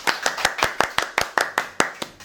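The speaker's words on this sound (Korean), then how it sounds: "박수!" A small group claps at a studio talk show to welcome a guest, giving about a dozen crisp, close hand claps in a quick, slightly uneven rhythm with no talking.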